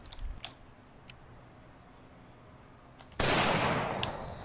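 Hunting rifle fire in Project Zomboid: faint clicks and handling noises over a quiet stretch, then one loud, sharp shot with a rolling tail.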